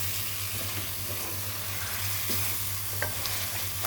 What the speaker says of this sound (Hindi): यहाँ पे इसको हमें हल्का हल्का पानी लगा के चिकन को अच्छी तरह से भून लेना है इस मसाले में।